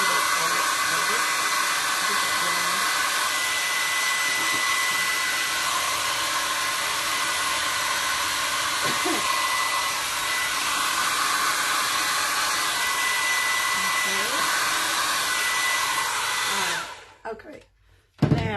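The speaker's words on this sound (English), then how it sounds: "let me get a dryer here, and I'm going to dry the middle part of it." A handheld hair dryer blows steadily to dry paint on a Christmas tree truck craft piece, a loud, constant close-up whoosh that runs for many seconds before cutting off abruptly, followed by brief handling noises.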